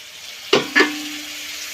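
Chopped tomato hitting hot spiced oil for chicken curry, two sharp sizzling bursts as it lands in the pan, then a quieter steady frying hiss with a faint tonal hum.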